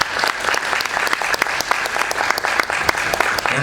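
An audience at a World Soil Day opening ceremony claps after a welcome address, a loud, dense burst of many hands with sharp individual claps standing out, close and sustained throughout.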